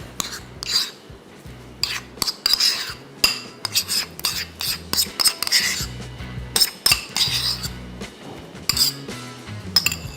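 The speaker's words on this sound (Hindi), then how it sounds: "इसको खूब अच्छी तरीके से पहले मिक्स करेंगे और उसके बाद साइड पे कर देंगे" A spoon clinks and scrapes against a bowl as spices, salt and butter are mixed for crispy aloo kulcha, making a busy run of close metallic taps and stirring strokes with a faint low hum beneath.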